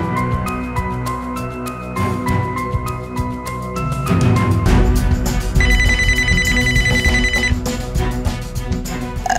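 A telephone rings repeatedly over steady background music, the electronic ringtone pattern loud and continuing throughout, with no talking.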